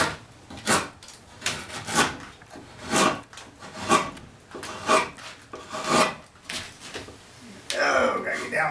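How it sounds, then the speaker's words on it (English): A hand tool rasps along the bottom edge of a wooden seat to bevel it, in repeated rhythmic strokes about once a second, close and fairly loud. "So I'm going to be beveling this one off straight there, and that'll be the first thing I'll do."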